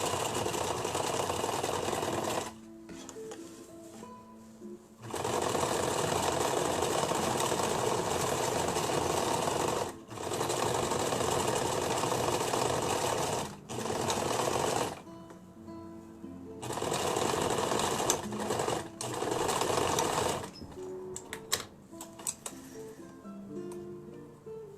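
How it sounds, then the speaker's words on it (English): A sewing machine runs in long, close, steady bursts of rapid mechanical chatter while sewing a finishing zigzag stitch on a costume, stopping briefly between passes. "Do a little finishing zigzag stitch."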